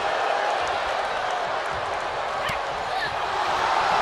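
Arena crowd noise from the WWE 2K22 wrestling game during an Elimination Chamber match, a steady dense roar of cheering held at constant loudness throughout, with a commentator's voice faintly under it.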